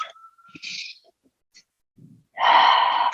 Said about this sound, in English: maintaining that Ujjayi breathing if possible for today